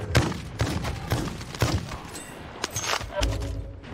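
Gunfire in the video game Warzone rings out in a rapid run of sharp shots at fairly even intervals, followed by a few more scattered bursts and thumps, at moderate loudness with no talk.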